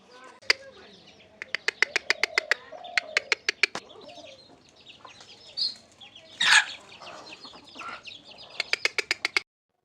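Three village chickens, hens and a rooster, clucking near and loud in repeated bursts of sharp calls, with a louder squawk partway through and scattered smaller calls between.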